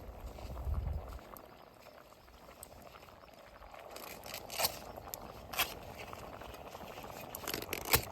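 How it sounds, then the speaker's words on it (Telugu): A pot of bottle gourd payasam bubbling at a boil, giving off soft, faint, continuous simmering and popping with a few louder bubble bursts near the end. "ఇంకా వస్తూనే ఉన్నాయి చూడండి బుడగలు."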